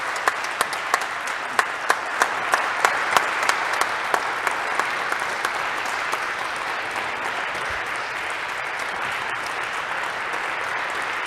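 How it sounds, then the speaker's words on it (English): Audience applause in St. James Cathedral after an organ performance of Messiaen's La Nativité du Seigneur, sustained even clapping with sharper individual claps early on that settle into a dense, roomy wash. "may we try once again with another round of applause"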